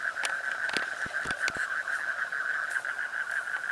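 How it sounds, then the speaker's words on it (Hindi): Many frogs croaking together along a riverside at night, a steady dense chorus of repeated calls with a few sharper clicks near the start, fairly close and without talk. "यहाँ पे नदी किनारे बोल रहे हैं कई सारे मेंढक, टों टों टों टों टों टों करके"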